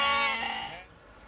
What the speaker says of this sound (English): Those are the sheep at Dinny Galvin's farm.